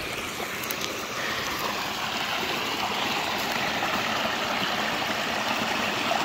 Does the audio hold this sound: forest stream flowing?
yes